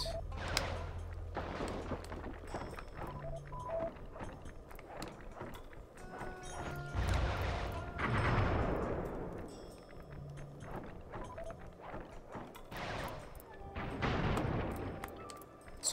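Panda King's fireworks attack in Sly 3 crackles as a string of popping, booming bursts over game music and effects, with louder volleys spread through the stretch.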